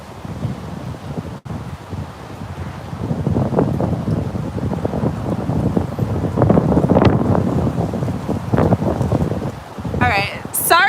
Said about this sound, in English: Starting to get a little bit windier.